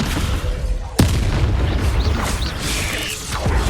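A Descendo spell in Hogwarts Legacy slams an enemy down with a sudden heavy boom near the start, followed by rumbling combat noise and a few whooshing swells.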